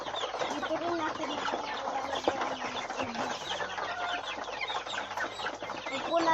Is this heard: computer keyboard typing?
no